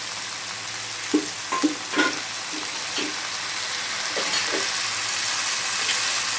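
Spice masala of turmeric and red chilli powders with a splash of water sautéing in a pan, a soft continuous sizzle broken by a few scraping stirs and light taps.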